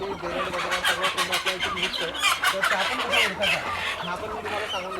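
White native village (gavran) chickens clucking and calling in a busy, overlapping flock, with repeated short bursts close by, joined now and then by a voice.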